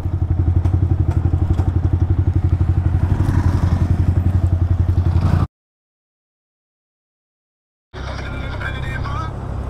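Motorcycle ridden through a desert area, its engine a loud, close rumble of rapid firing pulses. The sound cuts to silence partway through, then returns as rushing wind noise, with talking over it.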